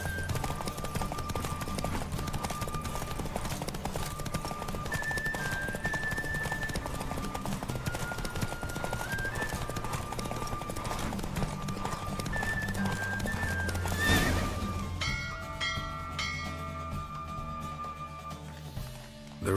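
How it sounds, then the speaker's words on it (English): In The Witcher 3 a horse race unfolds with a horse galloping in rapid, continuous clip-clop under game music and ambience, neighing now and then, before the hoofbeats cut out near the end. "Don't spare the horse!"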